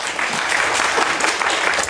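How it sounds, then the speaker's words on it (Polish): Steady applause from a concert audience fills the moment, a dense wash of clapping with no break, fairly close and loud. "wielkie brawa"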